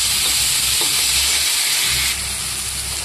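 Spice masala with a spoonful of sugar fries in a pan with a loud, continuous sizzle and hiss, close up, with light stirring.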